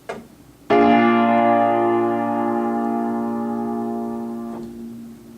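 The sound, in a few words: dominant seventh chord played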